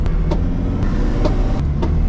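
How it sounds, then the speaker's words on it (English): A BMW M50 engine idles roughly, misfiring from faulty ignition coils, with a steady low rumble broken by irregular stumbling pulses roughly every half second, loud and close. "you can hear the misfire"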